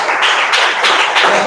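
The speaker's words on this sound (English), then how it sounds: "So once again, give a big round of applause" A round of applause from an audience at a mathematics olympiad orientation programme, dense steady clapping filling the whole moment with slight surges, no voices.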